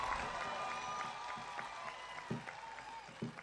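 Applause from an audience at a Hindi poetry recital, a steady wash of clapping with some louder individual claps, heard at a moderate distance.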